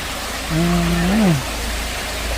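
The Sai Yok Noi limestone waterfall in Thailand sends steady broadband water rushing down, heard close and loud while someone speaks briefly over it.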